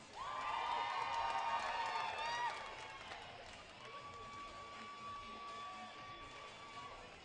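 A crowd cheers and whoops loudly for a roller derby team, the Doomsday Valkyries, the roar peaking early then easing into a lower sustained hum of voices.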